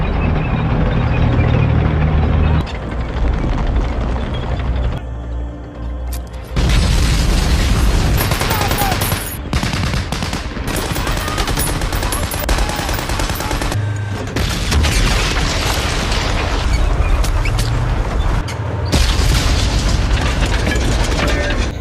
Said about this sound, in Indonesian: Dan ketika ledakan terjadi, pertempuran pun dimulai.